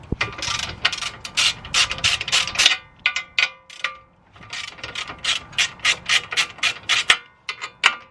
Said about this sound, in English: I do have a ratchet. I'm guessing we'll break the bottom 3 loose